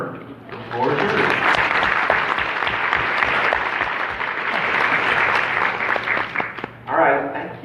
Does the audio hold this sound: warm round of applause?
yes